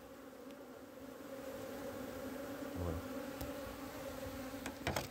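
Honeybees hum continuously around an opened hive while being transferred to a nucleus box, a soft, close, steady drone throughout with a few brief knocks and handling noises, and a single short spoken word.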